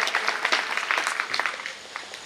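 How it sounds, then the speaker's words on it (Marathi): Audience clapping at a Vitthal temple devotional programme to welcome a singer: dense, steady applause that stays at an even level for a couple of seconds without any voices. "एकदा टाळ्या वाजवून त्यांचं स्वागत करूया"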